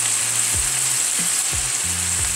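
Tomatoes frying with onions in a pan for a simple mushroom curry give a constant, close hiss, with a low hum and a few soft sweeping tones under it and no speech.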